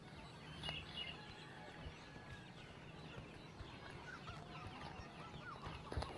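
Faint bird clucking and calls, like chickens or other fowl, scattered through steady low background noise, with occasional louder chirps near the end.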